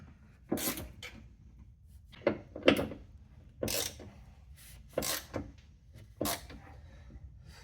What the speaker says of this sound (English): now I'm just working on the tension nut here, making it tight